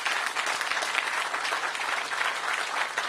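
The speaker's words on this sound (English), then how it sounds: "So please give all of them a round of applause for the hard work to make it get it done." Steady, dense applause from a crowd gathered at a ribbon-cutting for a Ward 8 entertainment and sports arena, continuous and fairly loud throughout with no voices over it.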